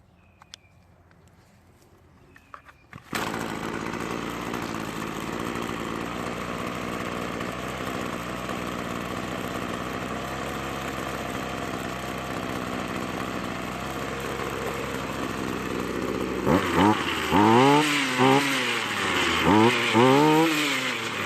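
A Toro string trimmer with a reconditioned carburetor diaphragm starts after a few faint clicks, then runs at a steady, buzzing two-stroke idle, rising and falling as the throttle is revved near the end.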